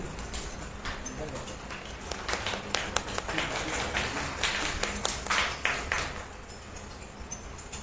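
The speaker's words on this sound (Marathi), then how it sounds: "जोरदार टाळ्या त्यांच्यासाठी." A crowd at a handicrafts award ceremony applauds girls being honoured on stage, the clapping swelling in the middle and fading out, with voices throughout.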